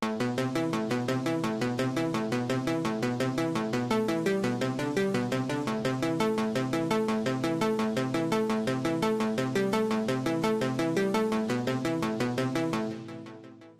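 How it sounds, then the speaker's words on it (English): A fast synthesizer arpeggio repeats its pattern of rapid, evenly spaced notes, steady and loud, then stops abruptly near the end. "So altogether, that ARP sounds like this."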